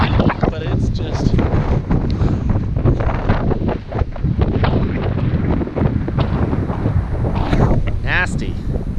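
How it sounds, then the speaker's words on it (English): Strong gusty wind at Boulder Oaks Campground on the Pacific Crest Trail, loud rumbling buffeting against the microphone without letup, with a person's voice heard faintly beneath the roar. "I don't know if you can feel this wind"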